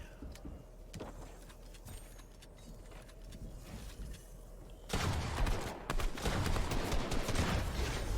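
Gunfire in a Fortnite match: scattered shots at first, then a sustained, louder burst of rapid firing and impacts from the midpoint onward, with no talking.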